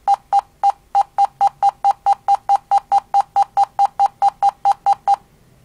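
A computer beeps from a Windows command prompt after Ctrl+G is held: about twenty identical short, loud beeps in a quick, even rhythm, then silence.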